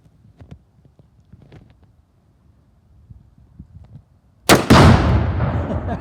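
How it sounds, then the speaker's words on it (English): A Colt AR-15 A2 Government Carbine rifle shot sets off tannerite with one sudden, loud, close blast that rolls into a long, roaring rumble, after faint quiet sounds. "First shot."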